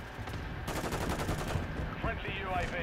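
Gunfire from Call of Duty Modern Warfare 3 in a Ground War match: dense bursts of rapid automatic shots, loud and close, with a player talking over the battle.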